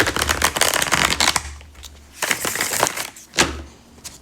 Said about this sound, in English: Let's give this deck a good shuffle